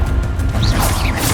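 Confringo and Bombarda spell impacts in the Hogwarts Legacy video game, loud blasting crashes and whooshing bursts packed into a brief, dense moment.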